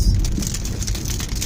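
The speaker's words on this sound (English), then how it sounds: "It's not hail, but it's some fat drops." Heavy rain with fat drops falling outdoors, a dense steady patter of drops hitting surfaces, constant and fairly loud with no talk.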